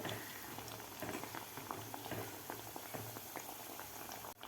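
Soaked chana dal fries in hot oil on a medium gas flame, giving a steady, soft bubbling sizzle with light patter throughout and no talking.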